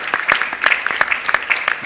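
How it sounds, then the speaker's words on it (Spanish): Audience clapping at an international foreign-language fair, a steady crowd applause of many hands with dense overlapping claps, sustained and fairly close, with faint voices beneath. "Le damos un aplauso a todos para que sientan bienvenidos"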